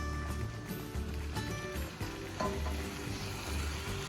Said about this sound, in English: Just toast that tomato paste